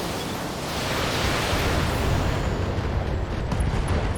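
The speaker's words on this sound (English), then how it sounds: "Firing all weapons." A mech in the BattleTech video game fires all its weapons at once, a dense sustained roar of blasts and explosions lasting several seconds, loud and close, with no talk.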